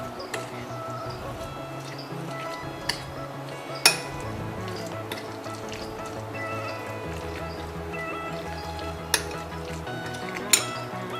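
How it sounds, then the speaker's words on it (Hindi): A chicken and mayonnaise burger filling with chili sauce and pepper is stirred in a bowl, with a steady scrape and light clinks of a spoon against the dish and a few sharper taps. "इसको अच्छी तरह मिक्स कर लें।"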